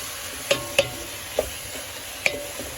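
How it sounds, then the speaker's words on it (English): Utensil stirring a vegetable mixture in a pan for an easy baked aubergine and lasagne dish, with sharp scraping clacks at an irregular pace over a faint sizzle. "now we are going to mix them all together and give it a good stir"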